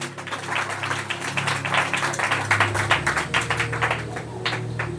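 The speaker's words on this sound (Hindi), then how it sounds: "वो जोर से परमेश्वर के लिए ताली बजाए" A church congregation claps loudly together during a Hindi worship service, a dense, steady burst of many hands close by, with music and sustained tones running underneath.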